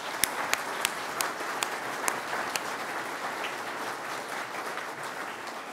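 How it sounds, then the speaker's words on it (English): An awards ceremony audience gives a quick round of applause: a continuous wash of clapping from a sizable crowd, with several sharp, louder individual claps standing out near the start before it settles to an even level. "a quick round of applause"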